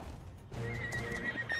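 A horse in the video game ARK whinnies in a brief, rising neigh, fairly faint, with soft hoof clops beneath it.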